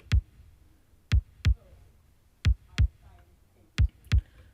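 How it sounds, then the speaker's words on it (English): Bass drum from the Roland JD-Xi 909 drum kit, playing a sparse pattern of deep, punchy kicks in pairs with short gaps, clear and alone. "So the first part is the bass drum, which comes in on these patches here, which sounds like this."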